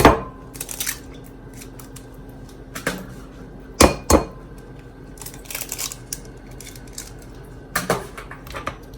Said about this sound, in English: Take your 2 eggs, put them into another bowl.